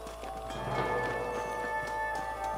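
Horses walking in the Red Dead Redemption western video game, a steady, soft hoof clip-clop under a continuous ambient hum and high tonal game sounds, moderately close.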